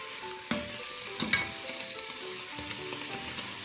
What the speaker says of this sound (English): add our 2 tablespoons of aceto balsamico to deglaze our onion apple mix